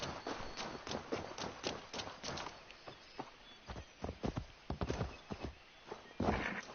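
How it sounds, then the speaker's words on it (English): Hooves of a galloping horse in Assassin's Creed Valhalla's Wrath of the Druids beat in rapid, uneven clip-clop bursts, close and fairly loud, with brief pauses and a short whinny-like sound near the end. "I'll just take this horse instead."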